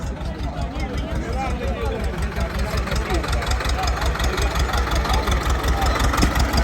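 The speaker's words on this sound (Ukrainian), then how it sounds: "Чоловік у тракторі гріється і тягне отакі сані." Tractor engine running steadily while it tows a sled during horse weighing in winter, a continuous loud mid-to-low idle-like drone throughout, with faint background voices.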